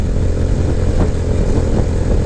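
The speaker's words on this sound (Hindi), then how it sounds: "यहाँ पर थर्ड गियर में बाइक बड़ी कंफर्टेबल है" A motorcycle runs in third gear on a road toward Kotli Sattian, a steady loud engine drone with wind noise heard up close and unbroken, with no speech.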